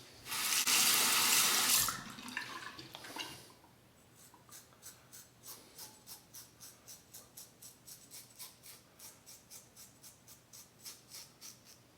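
Water gushes loudly from a tap for a couple of seconds, then quieter, steady rhythmic splashing and rubbing follows as a face and shaving brush are rinsed at a sink, close by.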